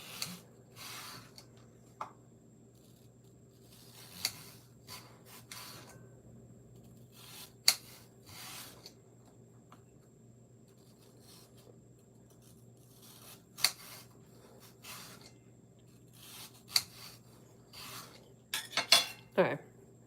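Knife slicing apples thinly by hand on a board, with sharp intermittent chopping clicks spaced irregularly over a steady low room hum, quick bursts of cuts near the end.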